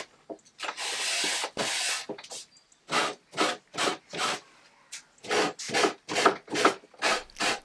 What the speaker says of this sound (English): now I can do some final hand sanding and fix all the imperfections and rough edges